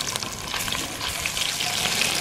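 Spices with onion, cumin and garlic paste sizzling in hot oil for kofta pulao as a splash of water hits the pan, a continuous hissing fry close up with no talking.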